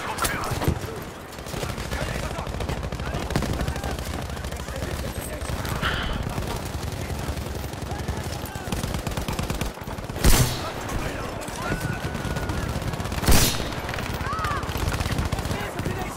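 Grenades fire and burst in a video game: loud, sharp blasts ring out near 10 and 13 seconds over a steady bed of gunfire and battle noise, with distant shots throughout.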